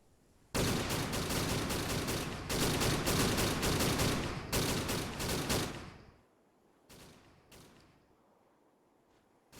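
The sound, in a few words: rapid gunfire from soldiers in the video game Arma 3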